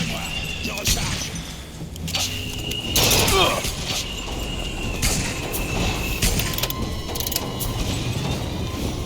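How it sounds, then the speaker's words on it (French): Weapon reloading in the video game Bioshock Infinite: a run of clicking, ratcheting mechanical clacks and metallic snaps, fairly loud and close, over steady game background noise with bursts of louder action. "Je recharge."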